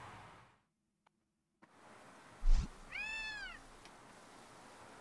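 A cat meows once, bright and clear, in the video game Gravity Rush. It comes after a brief thump against a soft background hiss, with a soft bump just before it.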